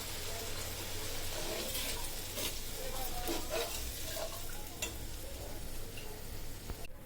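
A soaked spice paste for a tomato and okra curry is stirred and fried in a wok, giving a steady close sizzle with scraping stir strokes throughout, no talking.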